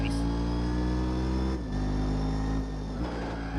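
A modified car's engine revs steadily in Gran Turismo 4, a loud, sustained mid-pitched drone that dips briefly twice as gears shift, with no speech over it.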